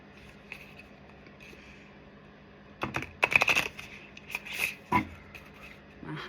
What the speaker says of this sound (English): So we're gonna give that one another shuffle